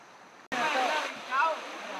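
Rushing water from a waterfall in Sarawak, Malaysia bursts in suddenly as a loud, steady broadband roar close by, with a brief surge partway through.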